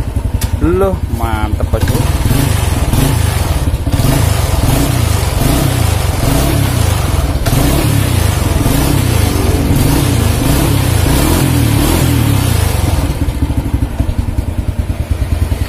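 A motorcycle that previously would not start is started after a repair. The engine catches, then runs loud and close with a pulsing idle and repeated revs, while someone briefly speaks over it.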